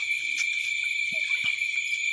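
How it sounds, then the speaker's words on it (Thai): Crickets chirp in a continuous high, steady trill at night near a rural mountain home, with a few faint knocks and brief sounds underneath. "นี่มีจิ้งหรีดด้วยครับ"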